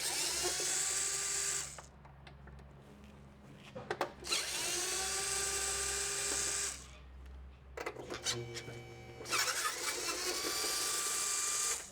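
Power tool runs on the lower air box bolts of a Nissan R34 Skyline: three long, close, high-pitched whirring bursts of a few seconds each, separated by pauses with faint clicks and handling noise.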